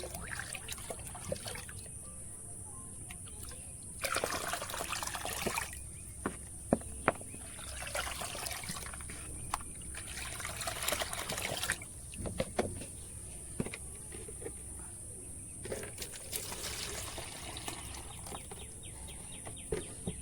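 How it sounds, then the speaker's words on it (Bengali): Organic liquid fertilizer being poured and stirred into a 20-litre bucket of water, with intermittent trickling and sloshing bursts of liquid at low level over an outdoor background with a steady high insect-like whine. "সার দিয়ে দেবো এই কুড়ি লিটার জলের বালতির মধ্যে"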